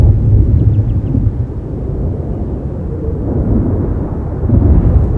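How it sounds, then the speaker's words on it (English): Deep, rolling thunder of an approaching storm over wet peat bogs, a loud, continuous low rumble that swells and fades without any voices. "the sound of the approaching storm is a familiar one"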